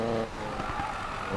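A VW Beetle drag car in Need for Speed Payback drives with a steady engine drone and brief tire scrubbing, loud and close, with no talk.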